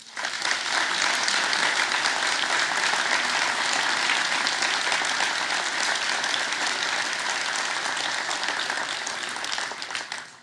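An audience at a mayor's New Year address in Cusset applauds local associations, a thick, continuous wash of clapping from a large crowd, loud and steady throughout before tapering at the close.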